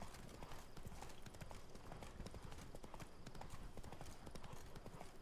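Horse hooves pound in a fast, continuous galloping rhythm in the Witcher 3 Blood and Wine game, dense and driving throughout at a low overall level.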